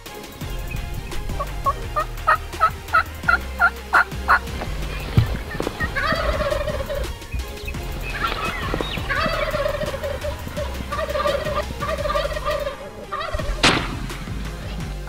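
A wild turkey gobbling outdoors in Wyoming while being called with a mouth call, a rapid series of loud rattling gobbles followed by repeated yelping calls and clucks, fairly close and alone.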